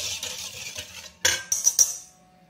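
Utensil scraping and clinking inside a mixing bowl while oil, ube powder and flavoring are stirred together for an ube chiffon cake batter, a steady scrape followed by several sharper taps near the end, close and alone.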